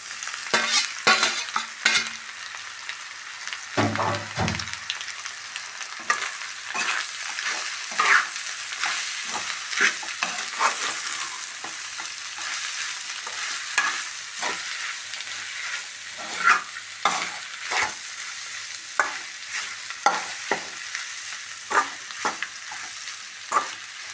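Soy chunks frying in a pan with egg, sizzling steadily as a spoon scrapes and stirs in repeated rhythmic strokes, close and fairly loud, with a brief clatter early on and no voices.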